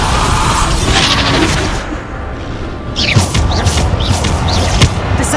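Bombarda exploding spell in Hogwarts Legacy, loud booming impacts and crashing smashes in a dense, continuous barrage of battle noise, with several sharp hits in the latter half.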